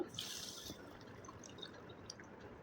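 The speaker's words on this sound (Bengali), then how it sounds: "এবার দিয়ে দিচ্ছি জল" Water is added to a mix of mango, salt, sugar and lemon juice for mango sharbat, a faint close splashing and trickling pour with soft drips, heard alone in a quiet kitchen.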